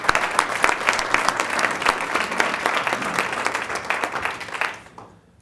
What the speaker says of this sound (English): I'd love to give both of them a round of applause and congratulations